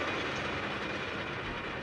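Roller coaster train running on its track in the Planet Coaster game, a steady rolling clatter of wheels on rails lasting the whole moment, with no other sounds.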